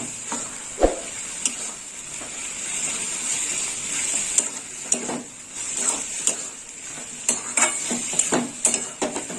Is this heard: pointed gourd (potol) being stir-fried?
yes